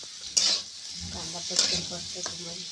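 Onions sizzle and hiss in hot oil while a spoon stirs them around a wok, with a couple of sharper bursts of frying, for an onion and potato dish.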